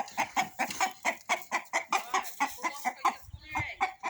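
Chickens cluck in a steady, rapid series of short calls, close up, on a farm where a stallion is kept, with a brief low thump near the end.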